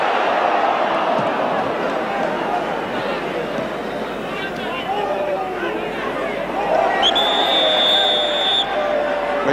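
A football crowd at an Everton v Bayern Munich match, with a steady roar and murmur from the stands, a commentator speaking over it and a whistle blowing near the end.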